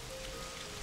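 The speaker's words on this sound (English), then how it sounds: "Oh, it's raining." Steady rain falling in a video game, a dense even hiss of drops on a surface, close and unbroken throughout under a faint constant tone.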